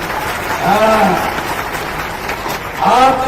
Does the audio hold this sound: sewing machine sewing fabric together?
no